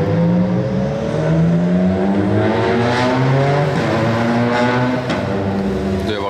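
A Citroën C3 rally car attempts a hill start on a street stage of the 2025 Monte-Carlo Rally, its engine revving hard in rising and falling harmonic sweeps, loud and close, with a brief sharp clatter near the end.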